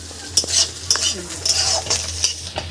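Egg and dal being stirred and fried in a pan: a spoon scrapes and clinks against the metal in repeated strokes over a steady close sizzle, with no talking.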